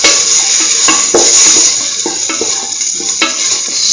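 Cumin powder sautéing in a hot pan for a curried lentil egg rice, a steady close sizzle with repeated scraping and stirring strokes throughout, no voices.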